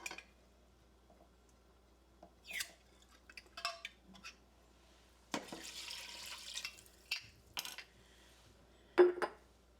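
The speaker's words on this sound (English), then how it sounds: "Next, we're going to add our home canned beef stock." Home canned beef stock pours into a pot in several short splashing bursts, with a longer stretch of steady pouring and light clinks of the jar against the pot between them.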